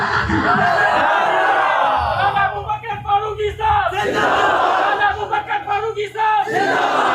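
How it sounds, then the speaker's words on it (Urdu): Large crowd at a religious gathering shouting slogans in unison, several loud rhythmic bursts of massed voices, close and dominant. "نعرے"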